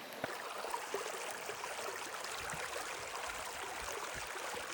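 Creek water flowing steadily through a desert canyon, a continuous broadband rush with small splashes and trickles, close and even throughout, no voices.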